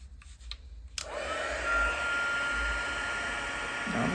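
A heat tool blasts steadily over a stamped card, a loud continuous whooshing roar that starts abruptly after a few faint handling sounds and holds evenly to the end.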